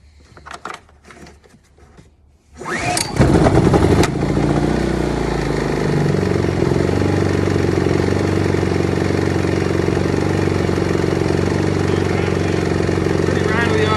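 A small generator engine is pull-started and catches with a sharp burst, then settles into a loud, steady, rattly run on a table. A voice speaks briefly before the start.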